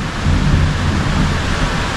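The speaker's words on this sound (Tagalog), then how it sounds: "Palakas ng palakas yung ulan." Heavy rain pours down around a house at night, a dense, steady roar of falling water that continues without a break.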